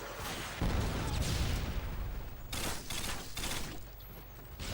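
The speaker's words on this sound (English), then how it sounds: "Friendly Predator missile incoming" Predator missile strike in Call of Duty: a faint, rumbling explosion swells and rolls on, then scattered distant blasts and crackles follow, with no voices over it.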